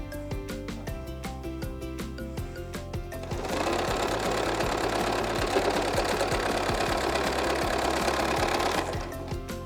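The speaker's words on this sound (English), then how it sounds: "I let the feed dogs pull the fabric through." A sewing machine runs steadily as its feed dogs pull pieced fabric strip sets through, its rapid close mechanical chatter swelling louder through the middle stretch before easing, with no talking.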